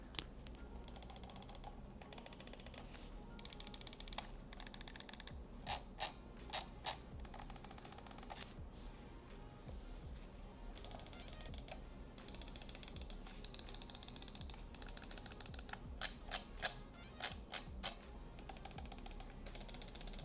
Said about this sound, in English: just to give you guys a comparison between the switches of the FK2-C and the FK2-B